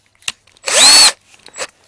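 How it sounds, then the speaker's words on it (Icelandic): A power drill bores a hole for a 3 mm bolt on a Kwik-fli Mk III model aircraft, with one loud, sustained whine of about half a second, framed by a few brief clicks and handling taps. "Þannig að ég bora"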